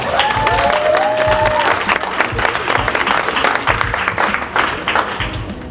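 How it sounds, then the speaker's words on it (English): An audience at a school capstone spring expo applauds a student whose name has been announced. Dense, loud clapping runs continuously through the whole stretch, with a brief tonal sound near the start. "ask you guys to give them a little round of applause when we say their name"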